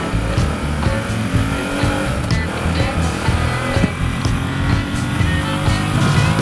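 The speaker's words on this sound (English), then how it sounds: "it's so nice just to hear that engine come to life" A 2016 Ducati XDiavel motorcycle engine revs and pulls on a coastal mountain road, a loud, steady, close rumble with rising throttle surges, wind noise and no talking.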